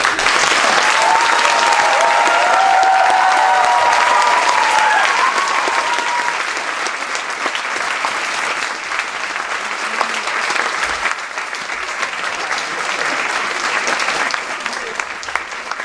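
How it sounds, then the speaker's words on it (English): A school audience claps loudly and steadily for performers taking their bows after a senior house drama show in a hall, a dense wash of applause that runs the whole time and eases only slightly toward the end. "please can we have an enormous round of applause"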